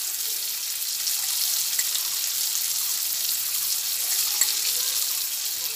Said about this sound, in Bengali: ভালোভাবে এরপরে ভেজে নিচ্ছি।